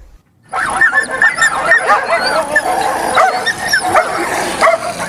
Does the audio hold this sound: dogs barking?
yes